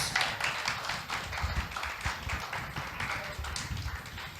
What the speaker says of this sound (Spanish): Aplaude al Cristo glorioso.